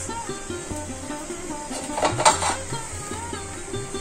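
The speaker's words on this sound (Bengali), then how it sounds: "এর মধ্যে আমি একটা পাত্র, এই ধরনের পাত্র একটা বসিয়ে দেব জলের উপরে" A metal pot is set down over a pan of hot water with a single close clank, followed by lighter scrapes and rattles. Soft, steady background music plays underneath.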